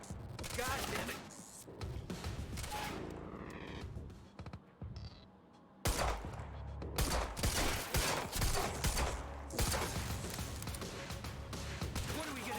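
Enemy gunfire in the Quantum Break video game, repeated sharp shots and bursts in loud volleys broken by a brief lull, with voices talking over parts of it.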